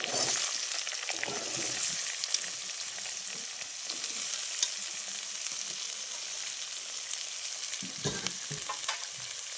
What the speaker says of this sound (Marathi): आता कांदा चांगला लाल होईपर्यंत भाजून घ्यायचा आहे